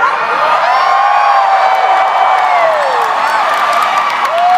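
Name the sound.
audience cheering loudly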